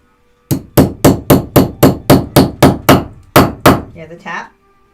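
Steady hammer strikes punching a rivet hole, about eleven sharp, loud, evenly spaced metallic blows close up, followed by a brief softer scraping rattle.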